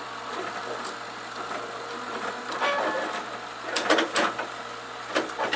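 A Datacard 280 card embossing machine runs with a steady mechanical hum, punctuated by sharp clacking strikes that cluster in quick bursts toward the end.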